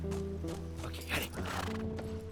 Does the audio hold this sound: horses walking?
yes